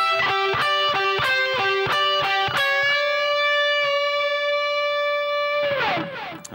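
Distorted electric rock guitar plays a solo phrase: a run of quick picked notes, then a long sustained note held with vibrato before a final bend and scratchy release, loud and alone.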